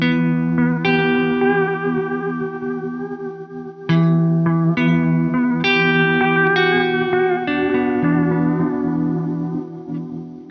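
Guitar through a Chase Bliss Thermae analog delay with modulation, picked notes and chords with warbling, wobbly repeats, loud and continuous with a chord change midway and a slowly fading tail.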